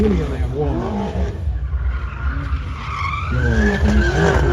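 A car at a BMW meet skids, with squealing tires and a roaring engine that sweeps up and down, loud and close, while people talk nearby.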